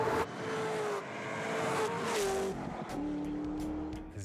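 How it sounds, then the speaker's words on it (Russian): A Chevrolet Corvette ZR1 supercar roars loudly and close, its engine note rising and shifting between gears in a sustained, powerful drone with a tire squeal, nothing else heard. "ZR1 – самая громкая, разрывающая барабанные перепонки и быстрейшая машина из когда-либо производившихся в Америке."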